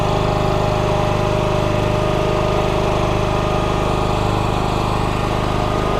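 An AM-190 log loader on a red AM716-1600 dump trailer runs its engine and cold hydraulics, a loud steady buzzing drone with no pauses or changes, heard alone.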